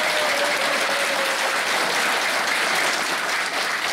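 Dense, loud applause from a crowd at an inauguration ceremony for a Buddhist association, an even wash of many hands clapping without pause.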